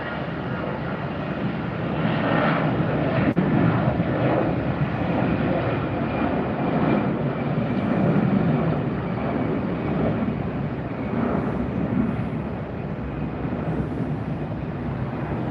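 A Frontier Airlines plane departs Tampa airport and banks out over Tampa Bay, its engines a steady, broad roar from a distance that swells and fades gently without a break.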